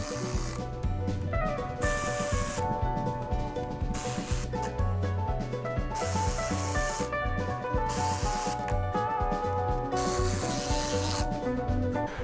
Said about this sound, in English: Now I'm going to use the electric ratchet, but I'm not going to tighten it. I'm just bringing down the bolts all the way.